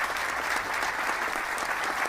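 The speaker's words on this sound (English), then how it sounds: "please give a round of applause to our panelists." An expo panel audience applauds steadily throughout, a dense wash of clapping at moderate volume with no pauses.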